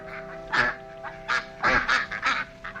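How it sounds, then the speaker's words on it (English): Duck or goose calls from a comedy film scene: a series of loud honking quacks in uneven bursts, about five or six calls over a steady low background hum. "I'm laying in the mud, looking at a duck."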